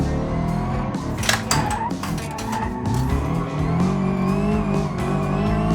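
A car drifting in the BeamNG driving game, its engine roaring steadily while tires squeal and skid in repeated bursts, loud and close throughout.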